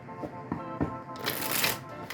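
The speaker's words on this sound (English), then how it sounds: "as I was shuffling" Oracle cards being shuffled by hand, a soft papery riffle and slap building into a dense, continuous flutter toward the end, close and fairly quiet, with no voice.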